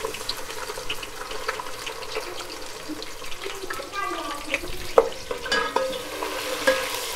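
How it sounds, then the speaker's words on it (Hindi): Sliced onions frying in two spoonfuls of hot oil for kadhi pakora, a steady soft sizzle with faint stirring and scraping clicks throughout, close and moderate. "अब मैं इसमें पहले प्याज डालूंगी।"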